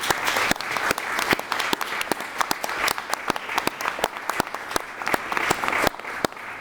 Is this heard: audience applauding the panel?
yes